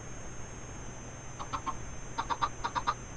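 Chickens in a Minecraft 1.14 survival island game give a cluster of short clucks, first a few scattered and then two quick bursts of three, at moderate level over a steady low background hum.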